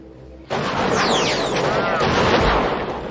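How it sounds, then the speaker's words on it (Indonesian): Gunfire from the 1993 film Sniper: a loud shot bursts in suddenly and carries on as a dense, roaring blast with echoing tails for nearly three seconds. "Ia melepaskan tembakan pada medali emasnya yang sengaja digantung untuk menarik perhatian Thomas"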